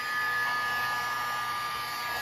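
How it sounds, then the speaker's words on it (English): A heat embossing gun runs steadily, a loud, even blowing whoosh with a faint whine, like a hair dryer, close up and uninterrupted. "when you turn it on, it's going to make noise like a blow dryer"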